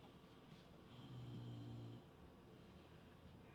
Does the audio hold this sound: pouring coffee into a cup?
no